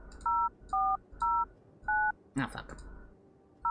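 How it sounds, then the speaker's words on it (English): Four distinct DTMF keypad tones in a video game as a phone number is dialed, each a short clean beep with gaps between, then a brief burst of speech and the start of another tone. "I need to go call that phone number."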